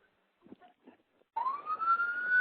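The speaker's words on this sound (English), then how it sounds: "It's a rare, once-in-a-lifetime opportunity to have a cop hit a siren for me." A police car siren is switched on by an officer and wails loudly in a single rising, sustained tone, following a few faint scattered noises.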